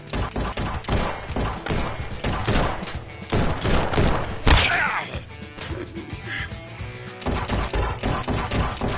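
Gunfire and impacts in the VR shooter Guns n Stories: Bulletproof, dense overlapping shots and thwacks with a sharp blast near the middle, loud and continuous.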